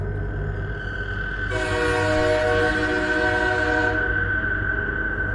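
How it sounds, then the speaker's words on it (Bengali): A train sounds a loud, sustained horn for about two seconds over a constant rumble as it approaches along the tracks, and the rolling noise carries on after the horn stops. "দূরে ট্রেনের হুইসেল শোনা যাচ্ছে এবং ট্রেনের লাইট দেখা যাচ্ছে"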